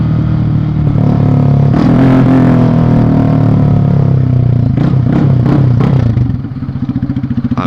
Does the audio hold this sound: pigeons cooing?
no